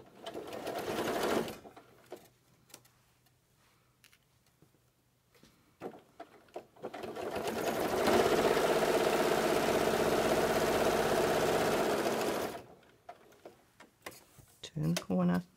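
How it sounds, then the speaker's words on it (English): A sewing machine runs steadily for about four seconds, stitching a narrow seam on fabric cookie bags, loud and close, with a voice speaking before and after the stitching. "Alright, now I'm going to sew a seam, a small seam,"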